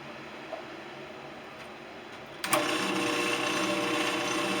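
A wood lathe runs with a loud temporary belt while turning an epoxy-rimmed bowl, a steady mechanical whir and hum that jumps louder midway and then holds constant.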